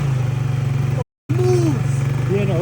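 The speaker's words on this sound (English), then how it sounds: "It's idling." A cheap quad bike engine idles with a steady, close putter that runs under a voice, broken by a brief gap partway through.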